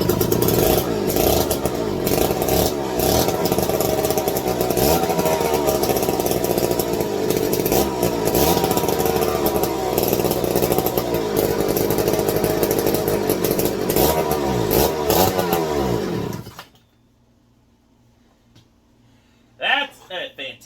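A McCulloch 250 chainsaw from a barn find runs loud and close, revving repeatedly in rough surges before cutting out to near silence, followed by a short burst of speech.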